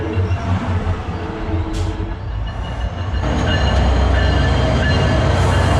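A SunRail commuter train rumbles past close by, a loud steady roar of wheels on rails with some clickety-clack and faint squeal that grows louder midway and holds at full strength.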